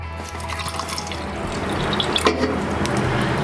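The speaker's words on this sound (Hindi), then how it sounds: "और इसी में आप थोड़ा वाटर पोर कर दें" Water from a tap trickles and splashes into a glass holding an egg, a steady close liquid stream with a brief splashy burst partway through.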